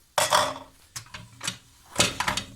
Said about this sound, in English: Just give it a stir so it's evenly distributed in the pan.